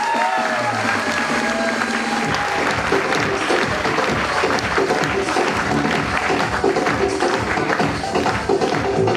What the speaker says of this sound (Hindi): तो एक ताली दिल से हमारे चैमकैश के लिए हो जाए